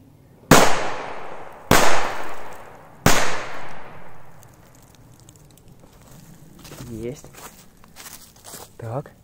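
Three firecrackers, the weakest of a set, bang one after another, each a sharp loud crack with a short decaying tail, evenly spaced about a second apart, followed by quiet rustling and brief speech.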